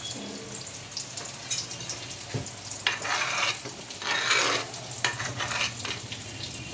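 Fish curry simmering down in a pan over low heat, a steady bubbling sizzle with occasional stirring scrapes and brief louder splutters, close and continuous with no talking.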